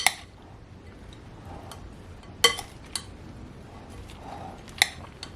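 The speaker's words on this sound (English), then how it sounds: "I'm just mixing it up to spread out the balsamic." Pasta salad is tossed with balsamic vinegar in a bowl: a few sharp utensil clinks and ticks come at irregular moments over a quiet, soft background.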